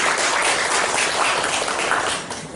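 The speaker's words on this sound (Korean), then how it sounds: "우리 예배를 받으신 우리 하나님 앞에 영광의 박수 한번 드리겠습니다" A church congregation applauds together at a Christmas thanksgiving service, producing dense, steady clapping that fills the room at an even level and tapers slightly at the end, with no talking over it.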